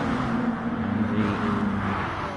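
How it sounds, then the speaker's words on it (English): Engines of a camo-patterned Mazda 6 and a Supra in a racing video game drone and rev as the cars run close together on track, a steady, loud motor tone with shifting pitch and no talk over it. "camo patterned Mazda 6 is easily dispatched by the Supra, and he drops down into 3rd place"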